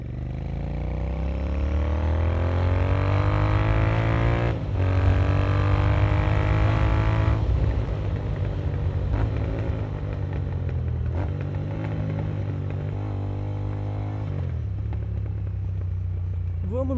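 A Royal Enfield Interceptor 650 Racer with a JBK exhaust tip is ridden on a road. Its loud, close engine rumble rises and falls in pitch through several gear changes over a steady throbbing idle-to-cruise drone.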